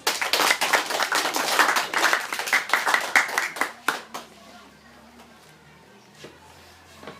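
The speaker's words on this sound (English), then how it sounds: "please give a round of applause" An audience at a high school debate claps for the next speaker: dense, lively applause for about four seconds, then it thins out to a few scattered claps as the room quiets.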